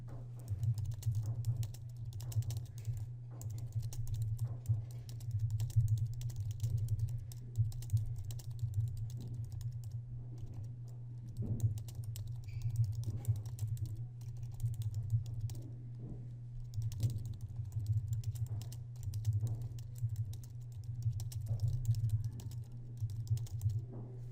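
Typing on a computer keyboard in Microsoft Word, a steady patter of close key clicks in irregular bursts over a low constant electrical hum.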